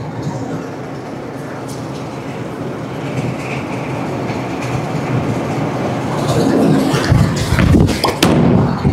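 A Brunswick bowling ball rolls down an oiled lane with a low, steady rumble that builds, ending in a loud clattering crash of pins near the end.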